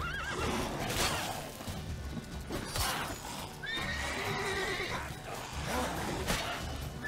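A horse in The Witcher 3: Wild Hunt neighs and whinnies repeatedly, with clip-clopping hooves and other game sounds in a busy, close mix.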